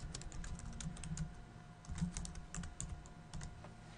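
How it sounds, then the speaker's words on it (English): Quiet keystrokes on a computer keyboard as a chart title is typed in Excel, a soft, irregular run of taps heard close and alone at low level. "all I have to do is type the title"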